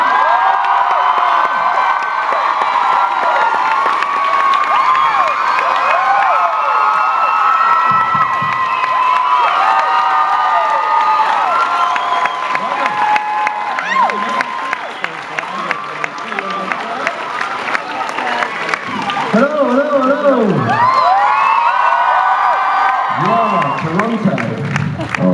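Convention crowd at Fan Expo Canada cheering, whooping and applauding loudly and continuously for the Doctor Who cast, with shouts rising above the roar and someone talking over it near the end.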